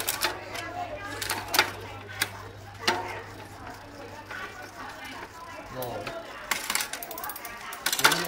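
A full-carbon road bicycle shifting up onto the larger chainring, with scattered mechanical clicks and ratcheting ticks from the drivetrain beneath a voice talking nearby.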